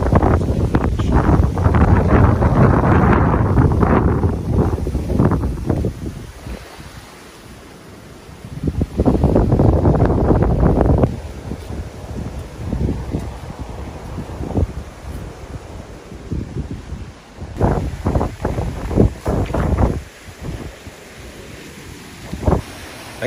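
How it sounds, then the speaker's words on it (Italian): Strong, cold gusty wind in Cyprus buffets the microphone in loud roaring bursts, easing off in between, with a steady rush of air underneath and no talking. "Si è alzato un vento che c'è da morire."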